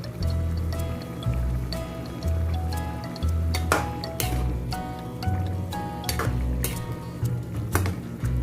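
A chicken and mushroom meatball mixture is stirred in a pan, with scattered clinks and scrapes of a utensil against the pan over a wet, bubbling cooking sound and a low steady hum.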